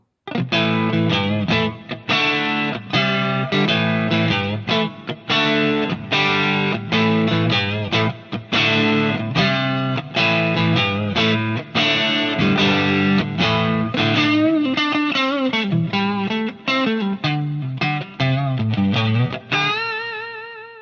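Crunchy electric guitar through a Marshall JTM45 amp with a Klone Centaur overdrive pedal strums a driving chord riff, loud and continuous, with a bending lead phrase and a held chord at the end.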